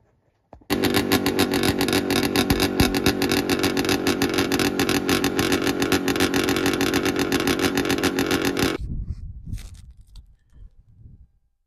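An old engine, just reassembled, runs loud and steady with a dense buzzing rumble for about eight seconds, then cuts off abruptly, leaving faint clicks and clunks.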